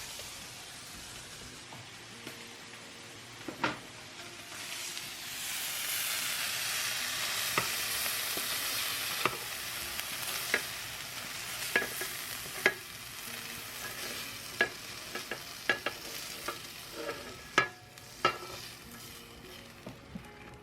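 Meat browning on both sides in a hot pan, a continuous loud sizzle with sharp periodic scrapes and taps of a utensil stirring, no voices.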